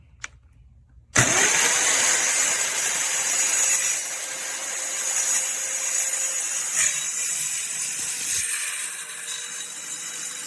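After a brief near-silence, a DOVAMAN 5.8A 4-1/2 inch circular saw with laser whirs to life and cuts through 2x6 treated lumber. Its loud, steady, high-pitched motor whine and cutting noise carry on for about nine seconds without talk.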